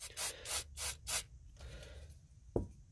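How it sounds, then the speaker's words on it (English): Aerosol cleaner sprayed onto a VCR video head in several short hissing bursts, close and fairly quiet, followed by a small knock. "you can spray the head directly"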